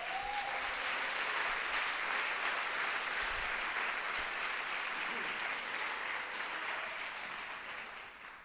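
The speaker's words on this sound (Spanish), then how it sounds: "¡Un aplauso!" An audience at a conference event on the islands breaks into sustained applause, a dense, even clapping that fills the room and slowly tapers off toward the end.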